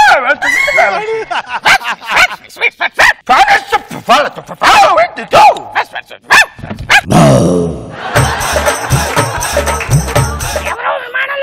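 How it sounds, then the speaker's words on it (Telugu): Puppies on an airplane yelp and bark in a quick, sharp burst, near and loud, broken by shouting voices and comic stage noise. "ఎవరో విమానంలో కుక్క పిల్లలు తీసుకొచ్చినట్టున్నారే. ఇందాక నుంచి అదే మాదిరిగా అరుస్తున్నాయి."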